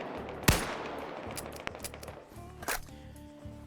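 Rifle gunfire in a PvP video game match at Farabad, one sharp loud shot followed by bursts of rapid automatic fire and a mag dump, over a low droning hum, no talking.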